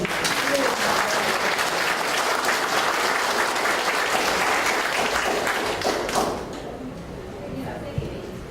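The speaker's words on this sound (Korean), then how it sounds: "큰 박수로 예" Audience applause at a mayoral campaign rally in Suncheon, a long dense wave of clapping from a large crowd that dies away after about six seconds, followed by quieter room noise and a single thump.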